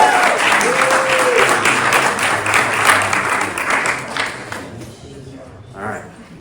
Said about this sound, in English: I want everybody to give a really warm, welcoming round of applause for Sherry.